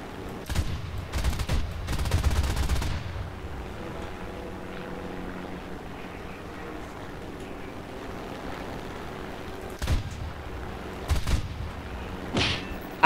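Guns of a Japanese Zero fighter firing in the air-combat game War Thunder: a few short bursts early and late over a steady propeller-engine drone, the shots close and sharp.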